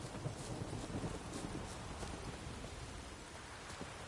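A rainstorm in The Witcher 3 gives a dense, steady hiss of rainfall with scattered drops and some wind, continuous and moderately loud, and no talk.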